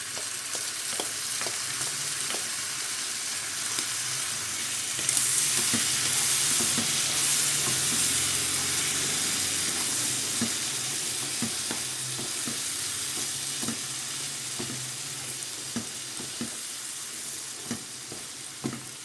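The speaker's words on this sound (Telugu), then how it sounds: "ఇదంతా కూడా ఫ్రై అయ్యే వరకు ఫ్రై చేసుకోవాలి" Tomato puree frying in a pan for Bhimavaram-style prawn fry biryani, a steady loud sizzle with scattered stirring clicks and scrapes throughout, no talking.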